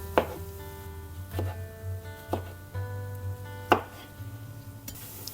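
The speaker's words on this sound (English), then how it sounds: "let's chop our tomatoes. I'm using 3 Roma tomatoes" A knife chops Roma tomatoes on a board in four distinct, fairly close thuds spaced about a second apart, over a steady low kitchen hum with no talking.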